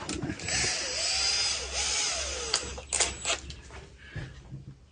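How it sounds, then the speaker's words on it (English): Power drill pre-drilling a hole in the wooden cabinet of an 1898 D.N. Schall & Co. "Big Wheel" slot machine, a close whirring burst whose pitch bends as the bit bites, then short stops and clicks. "we'll give her a pre-drill here."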